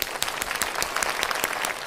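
A short burst of brisk, dense clapping from a small group, fairly close and steady throughout, with no talking.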